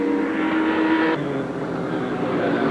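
A 1970 Lola Can-Am race car engine roars at a vintage race in Palm Springs, a loud, sustained snarl that abruptly shifts to a lower, rougher note partway through, as if the car passes.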